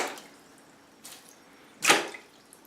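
A topwater fishing lure smacks into bathtub water, giving two brief splashes about a second apart, the second louder and sharper, close up with no talk.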